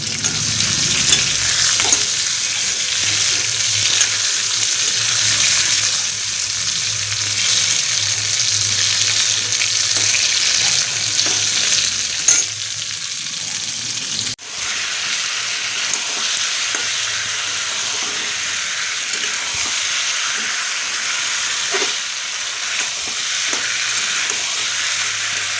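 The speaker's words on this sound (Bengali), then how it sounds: "আর এদিকে পটলটা ভাজা হচ্ছে।" Pointed gourd frying in a pan beside a pot of potato curry, a steady close sizzle with occasional stirring scrapes running unbroken throughout, no talking.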